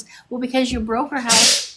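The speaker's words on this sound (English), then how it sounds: "Was that a sneeze?" A sudden, loud sneeze bursts out at the end, its harsh noisy blast following a short stretch of talking voices.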